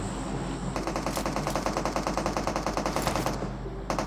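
Rapid automatic gunfire in PUBG Mobile, a steady burst of evenly spaced shots that runs for about three seconds and then stops, loud and close, with no talking.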